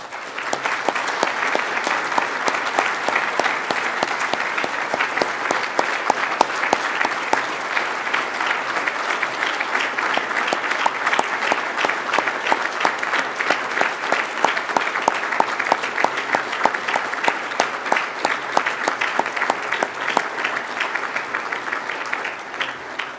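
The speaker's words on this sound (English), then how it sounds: "join me in one more round of applause for our award winners" A banquet audience at a law enforcement awards dinner gives sustained, loud applause for the award winners, a thick continuous wash of clapping from many hands that holds steady throughout, with no talking over it.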